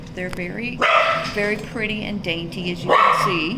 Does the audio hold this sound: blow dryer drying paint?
no